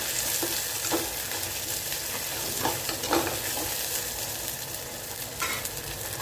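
Garlic sautés with onions in a pan, giving a steady dense sizzle with a few faint scraping stirs. No one speaks over it.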